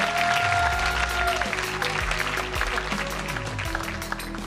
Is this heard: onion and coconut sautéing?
no